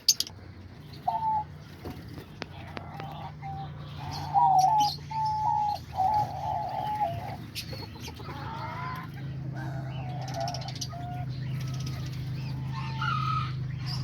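Chirps and warbling calls from many budgies in an aviary mingle near and far over a low hum, with chatter rising and falling throughout.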